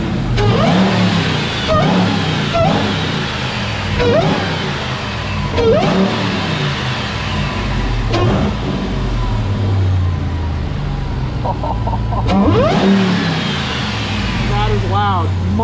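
A Ram TRX truck engine with a cold air intake revs up and down repeatedly, loud and close, with a high supercharger whine rising on throttle and a voice speaking over it.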